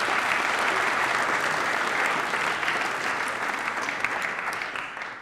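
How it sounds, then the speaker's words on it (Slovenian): Sustained, dense applause from an audience at a comedy roast, loud and even throughout before tapering slightly at the end, with no speech over it. "Dajmo na aplavz za Sweet Mary"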